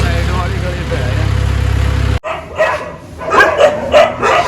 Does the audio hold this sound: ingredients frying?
no